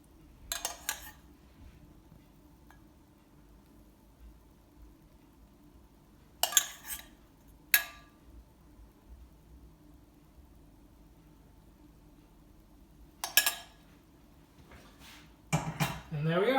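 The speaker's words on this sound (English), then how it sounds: "I'm just going to take that sauce and spoon it" A spoon scrapes sauce onto a plate beside sous-vide chicken breast, several short, sharp scrapes and light clinks spaced out across an otherwise quiet kitchen.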